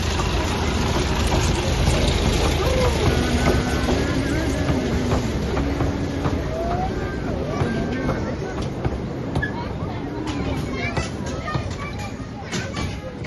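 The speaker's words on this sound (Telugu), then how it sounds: "ఇంజన్ ఇది టాయ్ ట్రైన్ ఇంజన్." A toy train engine runs at Nehru Zoological Park in Hyderabad, giving a continuous loud rumbling drone with faint clacking, under nearby crowd chatter and people talking.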